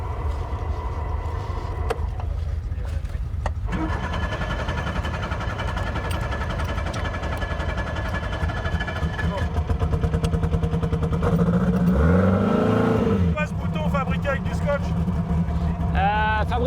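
A car engine is fired up and revved during a classic car road rally, running steadily with rising and falling engine note and a louder burst of revving toward the end.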